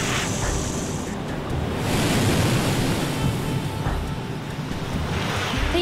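Ocean waves break on the shore in a loud, continuous wash of surf, with wind gusting across the microphone and no voices.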